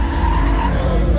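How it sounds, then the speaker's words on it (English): Trucks at a custom truck show do burnouts, their tires skidding and squealing loudly close by over a roaring engine, with voices talking underneath. "we get to watch the trucks burning out."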